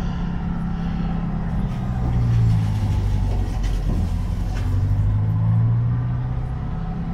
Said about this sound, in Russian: Нелегко пробиться сквозь лед катеру